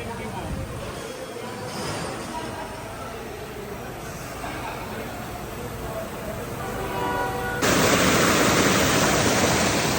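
Broad, steady rushing of a river running full after heavy rain fills the clip, growing louder and harsher near the end, while people talk over it.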